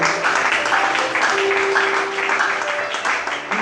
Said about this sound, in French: On va acclamer la parole